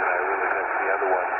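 Amateur shortwave radio on the 15-meter band, with a steady band of static and faint signals filling the receiver output, continuous and fairly loud throughout with no talk.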